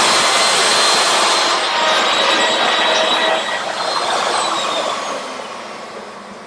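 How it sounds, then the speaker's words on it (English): Lathe tool cutting a slowly spinning wooden bowl, a loud hissing, scraping shear that stays strong then gradually fades as the cut eases off. "So a high-speed tool against a slow spinning piece of wood."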